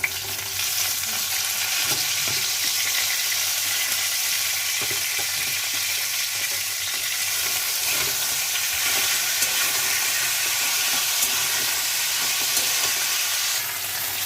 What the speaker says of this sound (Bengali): দু মিনিট মতন সজনে ডাঁটাটা আলুর সাথে ভেজে নিয়েছি